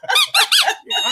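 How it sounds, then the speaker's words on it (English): A squeaky toy gives four quick, bright squeaks in a row, the last one held a little longer. They sound close and loud, with no talking over them. "All right, you get a squeaky for that, Cheryl."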